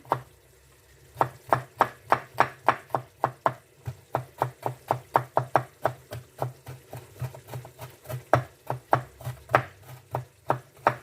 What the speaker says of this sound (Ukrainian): а тепер дрібненько, дрібненько, дрібненько січемо.